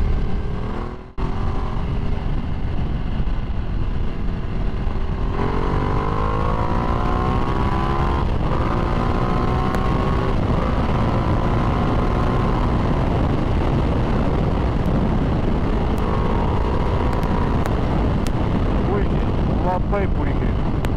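A Ducati Multistrada 1200S motorcycle being ridden, its engine a steady loud drone with rising pitch sweeps as it accelerates through gears, wind noise throughout and someone talking over it.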